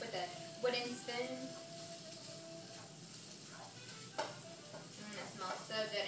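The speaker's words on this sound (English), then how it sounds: "So you just want to break it up with a wooden spoon" Fresh chorizo broken up with a wooden spoon in a hot pan, a soft steady sizzle with light scraping and tapping strokes, close and fairly quiet, with a brief low hum in the background.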